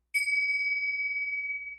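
A single bell-like ding from kartal hand cymbals struck together, bright and ringing with a clear sustained tone that slowly fades over nearly two seconds, heard alone.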